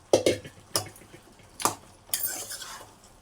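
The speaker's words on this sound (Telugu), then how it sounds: "శుభ్రం కడుక్కొని ఉడకబెట్టుకున్న మటన్ వేసుకుందాం" Boiled mutton going into a pot for a drumstick mutton curry, with four separate clattering clinks of metal utensils against the pot, spaced a second or so apart, close and moderately loud.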